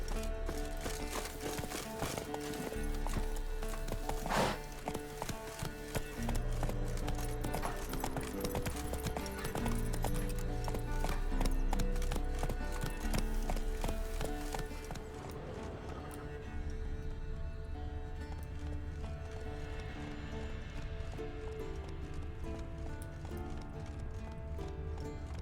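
Roach the horse galloping in The Witcher 3, a dense, continuous clip-clop of hooves at a steady fast rhythm, close and prominent, with an occasional snort and no talk.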